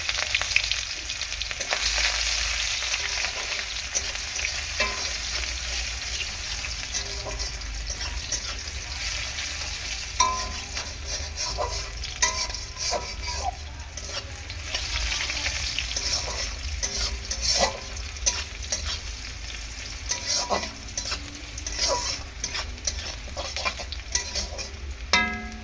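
Sliced onion hits hot oil in a blackened wok already seasoned with cumin seeds, a loud sustained sizzle with scraping stirs and occasional clinks from the utensil, no talking.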